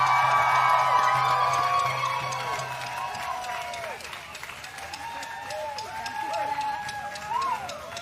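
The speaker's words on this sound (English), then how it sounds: "Wow, one more round of applause." A rally crowd cheering and clapping, shouts and whoops rising over steady applause that slowly thins while scattered voices call out.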